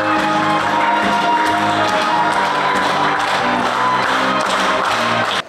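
Steady, loud applause fills an award ceremony hall as an Order of Courage is presented, with many hands clapping continuously and crowd noise mixed in throughout, never dying down.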